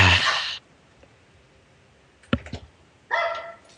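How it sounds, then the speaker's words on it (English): Two or three pet dogs bark indoors in short loud bursts, with quiet gaps between the barks, while a podcast-style conversation is paused. "my dogs are barking"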